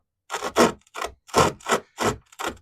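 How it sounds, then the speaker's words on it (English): Hand sawing of wood in short, uneven strokes, about six rasping pulls and pushes with brief pauses between, close and clear with no voices. "Starting to saw a bit better now"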